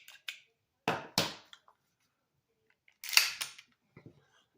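A Smith & Wesson model 645 .45 ACP pistol being cleared gives sharp metallic clicks and clacks, a few separate close bursts of slide and action noise with quiet pauses between them.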